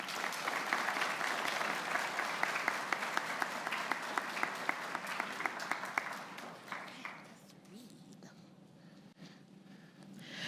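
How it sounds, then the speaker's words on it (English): A large audience at the 2024 Union High School graduation ceremony applauds the graduating students, steady dense clapping with a few sharper claps standing out, then thinning and fading out over the last few seconds. "Let's give these students a round of applause"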